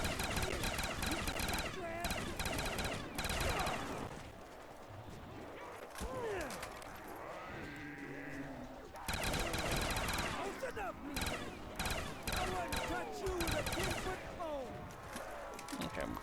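A FAMAS rifle in a video game fires in rapid bursts and sustained full-auto strings, loud crackling volleys broken by short pauses, with someone talking during the gaps.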